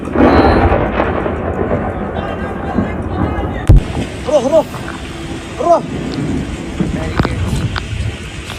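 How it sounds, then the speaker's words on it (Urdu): Thunderstorm in Mecca with a sharp close thunder crack midway, rumbling under steady wind and rain noise, while voices talk and shout intermittently over the storm. "اتنی تیز ہواؤں، آسمانی بجلی اور بارش کے خوفناک طوفان نے گھیر لیا"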